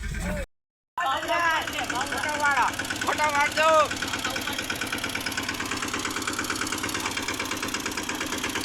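A tractor engine idles nearby with a steady low chugging throb, while people talk over it near the start.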